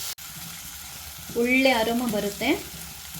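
Green chillies and ginger garlic paste fry in a pan, a steady soft sizzle that runs underneath a person speaking briefly midway.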